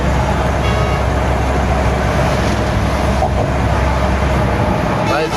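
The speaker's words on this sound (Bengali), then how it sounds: "দুই পাশে মাইক্রো চলে।" Road traffic crosses the Jamuna Bridge in Bangladesh beside a rail line, a loud continuous rushing roar of passing vehicles heard up close.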